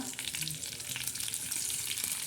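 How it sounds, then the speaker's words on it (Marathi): Curry leaves sizzle in hot oil with onion, a soft continuous crackling fry heard up close and on its own. "हा कांदा टा तेल टाकल्यानंतर त्याच्यामध्ये पहिला कढीपत्ता टाकणार आहोत"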